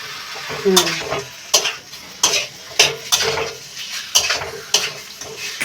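Mutton sautéing in a pan, stirred with rhythmic scraping and metallic clanks of a spoon against the pan over a continuous sizzle, close and loud.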